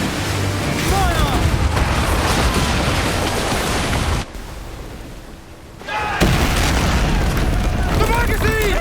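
Ship cannons firing during a naval battle in the video game Assassin's Creed Black Flag, heavy booming blasts over a dense roar of battle noise, with a brief lull midway before the barrage resumes loudly; shouting voices mix in.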